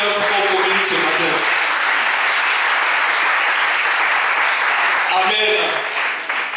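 Sustained applause from a church congregation, a dense wash of clapping hands that carries steadily for several seconds before tapering slightly at the end, with a few faint voices mixed in.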